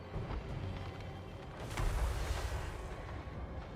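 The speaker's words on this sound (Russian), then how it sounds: "Задело взрывом." A low rumbling blast from a battle in the strategy game Total War: Warhammer 3, swelling into a heavier boom midway through amid continuous dense battlefield noise.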